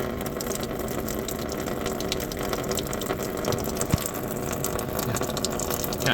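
Glycol engine coolant draining from the radiator drain of a Hino N04C 4-litre engine on a Hino 300 truck, a steady gushing pour of liquid that runs continuously at even strength throughout, with no talking.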